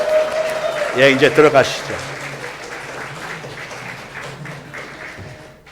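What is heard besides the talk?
congregation applauding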